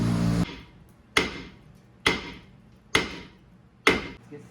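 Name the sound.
hammer striking a rusted brake rotor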